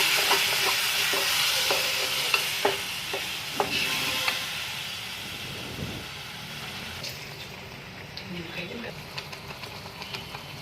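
Ground tomato puree with spices for pork biryani hisses and sputters in a hot pan while a spoon stirs, a dense sizzle with intermittent scraping clicks that gradually calms, up close.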